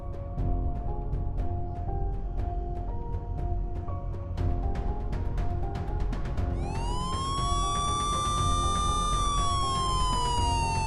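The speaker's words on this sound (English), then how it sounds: "In the event of emergency siren activation, do the following." A loud wailing emergency siren rises and sweeps in pitch over steady rumbling background noise and repeated clicking, continuous throughout.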